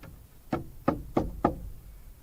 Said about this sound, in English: Give it a little tap with the hammer.